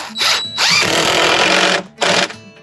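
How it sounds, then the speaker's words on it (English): A power drill whines in two bursts as screws are driven into wood during a cabin mud room addition build, first a long run of about two seconds, then a shorter burst, loud and close. "take 3 screws. Take 3. 1, 2, 3. There you go, and use your drill."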